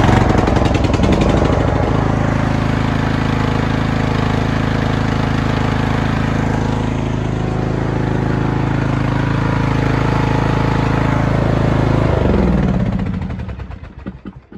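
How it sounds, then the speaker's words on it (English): First startup of a new engine in a Craftsman LT2000 lawn tractor: it cranks, catches and runs loud and close with a steady rattling drone for about twelve seconds, then shuts off and winds down. "So we're gonna be doing the first startup of this engine."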